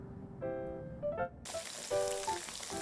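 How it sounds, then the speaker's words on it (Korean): Steady crackling sizzle of cubed tofu pan-frying in plenty of hot oil, continuous and close, with a few faint tonal clinks over the sputter. "기름 넉넉히 두르고 튀기듯이 구워줄 거예요."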